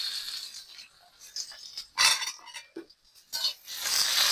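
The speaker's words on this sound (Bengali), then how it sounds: "রসুনটা একটু নাড়াচাড়া দিয়ে" Chopped garlic being stirred in oil in a pan with spices while cooking noodles: scraping and clinking of a utensil against the pan over a soft, intermittent sizzle, with louder bursts near the end.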